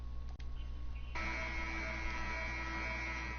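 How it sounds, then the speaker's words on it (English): Steady buzzer tone from an NBA 2K20 basketball game sounds before the tip-off. It starts about a third of the way in and holds at a constant pitch to the end over a low background hum. "As the buzzer goes, and we're ready for the tip, as Dwight Howard gets the tip"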